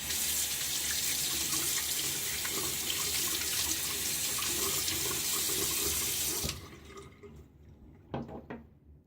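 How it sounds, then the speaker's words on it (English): Water runs steadily from a tap into a sink for a cold-water rinse while shaving, then cuts off, leaving a few drips and small splashes. "Time for that cold water rinse again."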